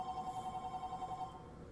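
A video game telephone rings in a fast repeating electronic trill, moderately loud, then cuts off after about a second and a quarter, leaving low background noise.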